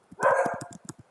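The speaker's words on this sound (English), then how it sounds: "Don't come over here barking, okay? It's too loud." A dog barks in a quick burst of sharp, close yips, loud at first and then tapering into a few shorter barks.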